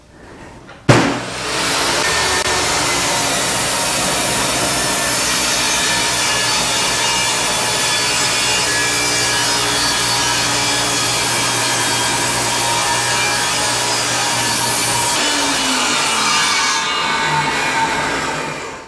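A table saw rips a tapered shim from a 2x4 held on a jig for a bathroom renovation in a 100-year-old house. It makes a loud, steady whine with wood rasping for about fifteen seconds, then spins down alone.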